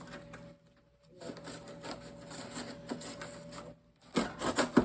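Knife slicing through a heavy cardboard shipping box, producing close, quiet scraping and rasping cuts that grow louder and choppier at the end, with no speech.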